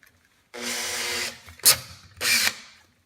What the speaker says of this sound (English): cordless drill.